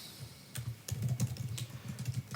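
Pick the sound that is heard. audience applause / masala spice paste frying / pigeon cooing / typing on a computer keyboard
typing on a computer keyboard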